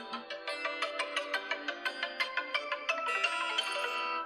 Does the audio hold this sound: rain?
no